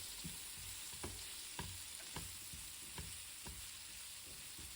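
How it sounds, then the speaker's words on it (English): Chopped leek sizzles steadily in a pan for a cheese omelette, with rhythmic scraping strokes of stirring about once every half second over the continuous frying hiss. "Continue stirring until the leek turn into slightly brown."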